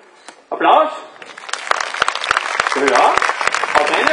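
Audience clapping at a horse dressage show, a burst of applause that swells and carries on steadily, with a voice speaking over it throughout.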